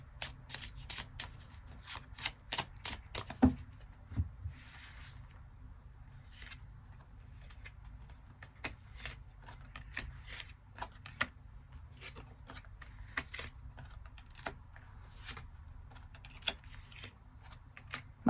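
Tarot cards are shuffled and drawn by hand, a long, close, quiet run of riffling and soft slapping flicks with scattered sharper snaps throughout.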